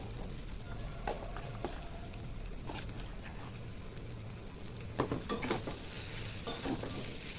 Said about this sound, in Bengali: এই আলুটার সঙ্গে ডিমগুলো সুন্দর করে মিশিয়ে নেবো।